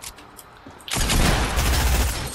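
SMG fire in a shooter video game bursts in suddenly after a quiet moment, a loud dense rattle of rapid shots that continues to the end.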